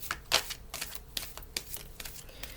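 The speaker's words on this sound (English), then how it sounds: "Now, I just shuffle these cards." A deck of tarot cards being shuffled by hand, a quiet close series of crisp riffling flicks and snaps in irregular bursts.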